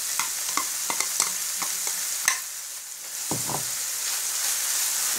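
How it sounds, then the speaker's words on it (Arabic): Minced meat frying in a pan with carrot, onion and celery for a bolognese lasagne, a steady close sizzle broken by repeated scraping stirs, with no talk. "نزيدو لها الكاروت مع البصله والسيلري اللي ربيتهم."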